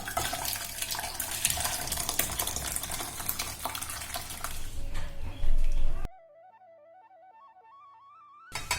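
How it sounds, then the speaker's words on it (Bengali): Tomato moong dal is poured from a pot into a serving bowl, a thick, continuous wet slosh for about six seconds, after which soft melodic music takes over. "ডালটা এবার একটা পাত্রে ঢেলে নিচ্ছি"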